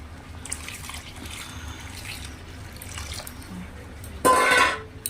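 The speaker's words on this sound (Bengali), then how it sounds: "এখন এই সাঁতলে নিচ্ছি, জল দিয়ে দিই" Water pours into a cooking pot of tempered dal, a short loud gush arriving near the end after a stretch of quiet kitchen clatter and faint drips.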